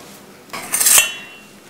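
A spoon scrapes and clinks in a bowl of chocolate chip cookie dough made from a mix, one short scooping burst near the middle of a quiet stretch, close and fairly crisp.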